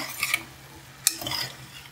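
Beetroot frying in a pan for a beetroot curry, with a soft continuous sizzle broken by several stirring scrapes and one sharp utensil tap on the pan.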